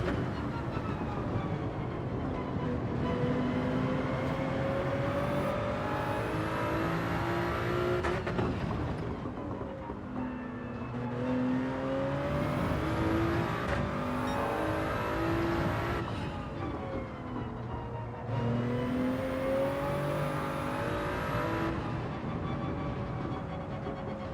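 Race car engine in Gran Turismo 7 revving hard through repeated upshifts and a downshift, loud and close, with rising pitch sweeps that drop and climb again in three long pulls.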